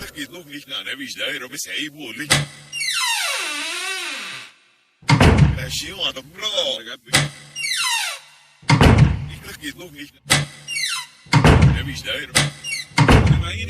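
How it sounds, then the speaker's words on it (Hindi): In a Hindi horror story, a room door shuts with several heavy thunks and slams amid dramatic sweeping sound effects and rising tones, with narration running between the hits. "जैसे ही उसने कमरे का दरवाजा बंद किया"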